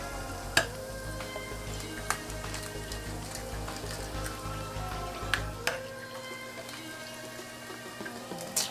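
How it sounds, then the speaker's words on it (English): Eggs frying in olive oil with orange zest on a cast iron griddle, a steady close sizzle with a few sharp pops and crackles spread through, then the hiss softening toward the end. "And you fry the eggs till the egg white fully cooked."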